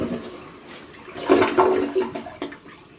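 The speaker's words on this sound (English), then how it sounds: "that's your kind of little flush" A newly installed toilet in a powder room gives a short, small flush, a rushing swirl of water that surges loudly mid-clip and then tapers off as the bowl drains.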